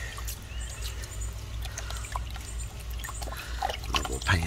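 Water sloshing and trickling in a gold pan as stream gravel is washed down, a steady liquid swirl with small splashes and pouring near the end, close and moderately loud over a low rumble.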